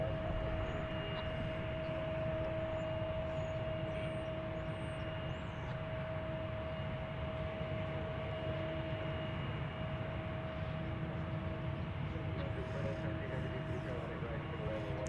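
A Boeing Dreamliner jet taxiing out at DFW airport, heard as a faint, steady distant engine drone with a constant whine, continuous and without voices.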